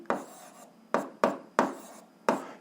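A pen scratching out an algebra solution by hand on paper: five short, quiet strokes in an uneven rhythm, close up, with no talking.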